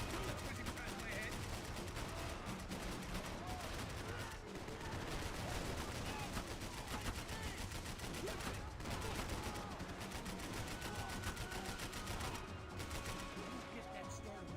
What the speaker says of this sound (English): Bullets whizzing past my head!